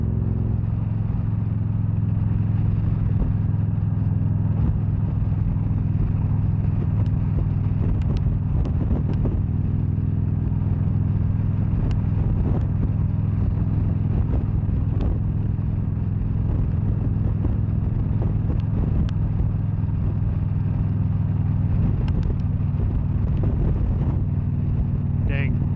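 Wind roars steadily against the rider while cruising on a 2013 Victory Cross Country touring motorcycle, mixed with a low engine drone and loud, constant buffeting with no let-up.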